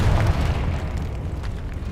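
A Confringo blasting spell in Hogwarts Legacy goes off as a deep, heavy boom with a rumbling low-end roar that slowly fades over two seconds, with no talking over it.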